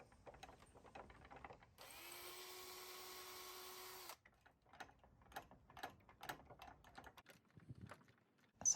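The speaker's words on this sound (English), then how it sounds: "I needed to pre-drill some holes to attach the bottom screws to the latch and make it more secure" A power drill bores pilot holes for the bottom screws of a gate latch, giving one steady whine of about two seconds set between light clicks and handling taps, all fairly faint and close.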